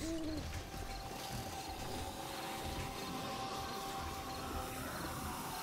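A bird hoots in the game 7 Days to Die, two short low calls at the very start, over a steady, dense background of game ambience and rumble.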